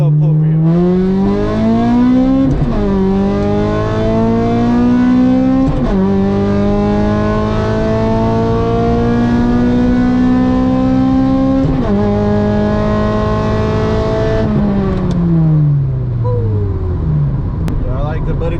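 An Acura RSX Type S with a Buddy Club exhaust, Jackson Racing header and aftermarket air intake pulls hard through the gears, loud and close, the engine climbing in pitch and dropping at each shift, with a steady drone throughout.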